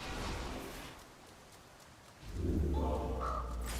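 A raven caws in a video game, a couple of short harsh calls near the end over a rushing, rain-like ambient background.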